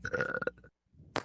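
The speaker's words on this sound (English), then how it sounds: "That was a burp, even though I didn't eat anything." A long, voiced burp rumbles close up for about half a second, then a pause and a short noisy burst at the end.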